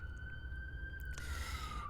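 An ambulance siren passing on a street in a city centre, heard faintly from indoors as a steady wailing tone that shifts partway through, alone without talk.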